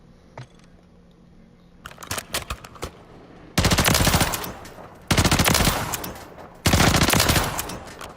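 Loadout gun firing in Warzone 3: several loud, close full-auto bursts of rapid, even shots, each lasting about a second, with short gaps between, after a few softer clicks and single shots.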